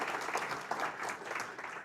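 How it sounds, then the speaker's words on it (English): A live studio audience at an ABC Radio conversation event claps steadily throughout, a dense, continuous patter of many hands at moderate loudness with no talk over it. "Clap your hands."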